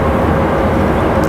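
Loud, steady broadband jet roar from an Airbus A321 airliner at Raleigh Durham airport, constant and close, filling the whole short stretch without any break.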